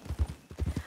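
Horse hooves clip-clopping in the western roleplay video game RedM, a quick run of close, muffled thuds in an uneven trotting rhythm.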